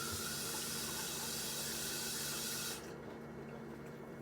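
Tap water runs steadily into a kitchen sink while potatoes are prepared for a mild karhi, a continuous close splashing hiss that cuts off abruptly near the end, leaving quiet room tone.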